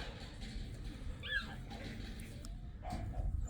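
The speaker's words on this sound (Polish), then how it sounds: "Tu obok chyba jakieś schronisko dla psów." Dogs at a nearby dog shelter, faint yips and whimpering barks off in the distance over outdoor background noise.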